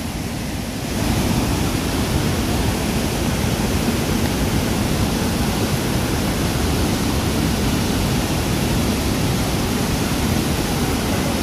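Steady, loud rushing water roars continuously after a brief quieter start, a dense broadband wash like a nearby waterfall or heavy pour, at a river spot with slippery rocks.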